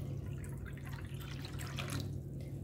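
Water is poured from a bowl onto jaggery, a continuous close splashing trickle with a steady low hum underneath, no voices.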